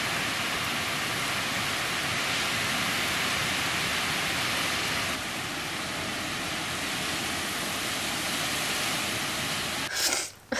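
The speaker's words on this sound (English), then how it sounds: "the wind is pushing the rain into my room" Wind drives heavy rain against a room from outside: a steady, loud wash of noise that holds for about ten seconds and ends with a brief rustle.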